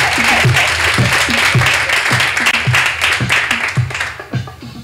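Warm audience applause for a poet at a poetry slam in Rotterdam, a dense sustained patter of clapping filling the room at steady loudness before thinning slightly at the end, with some rhythmic low thumps underneath.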